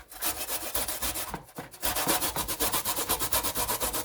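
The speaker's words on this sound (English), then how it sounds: "I'm going to use the jagged side on the grater to grate my potatoes." Sweet potatoes are grated by hand on the jagged side of a box grater. The strokes are raspy and close, repeating in a fast, steady rhythm with only a brief pause.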